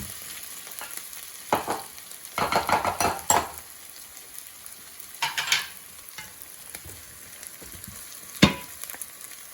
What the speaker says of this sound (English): now we're going to add the potatoes